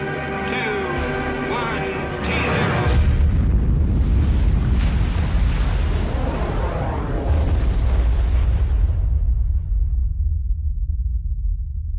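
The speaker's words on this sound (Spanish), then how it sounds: "La potencia de la explosión es similar a la de 10 millones de toneladas de TNT" Thermonuclear bomb test explosion of about 10 megatons: a heavy, deep roaring blast rumble swells in after a few seconds of tonal sound, then holds as a loud sustained roar before cutting off into silence.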